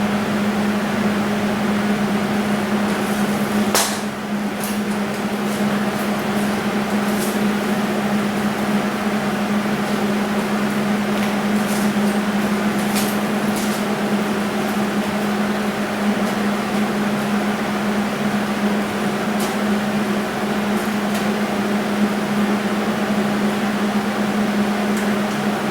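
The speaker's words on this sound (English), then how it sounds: "let's turn the welder up, heat on the welder up just a little bit" A wire-feed welder runs after its heat and wire speed are turned up, giving a long, steady electrical hum with a constant buzzing tone and a few sharp crackles and pops, alone with no talk.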